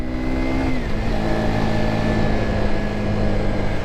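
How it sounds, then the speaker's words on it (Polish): A 2021 Junak 121 125cc Euro 5 motorcycle pulls away on a short test ride, its single engine rising in pitch as it accelerates, steady and close with constant engine drone and no talk. "Przejedziemy się krótki kawałek. No, dynamika jest całkiem spoko."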